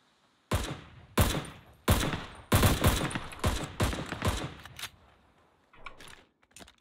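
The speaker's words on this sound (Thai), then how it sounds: "มันโดดยิงกันอยู่อ่ะ" Gunfire in the video game Ring of Elysium: a burst of sharp, loud shots in an uneven rhythm, roughly eight close reports, then fainter shots trailing off near the end.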